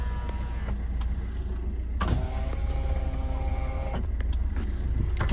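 Power windows of a Swift Dzire ZDi car moving, two steady whirring motor runs with clicks at start and stop, close and clear over a low idle rumble.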